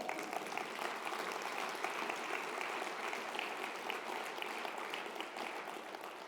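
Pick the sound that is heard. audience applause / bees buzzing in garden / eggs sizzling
audience applause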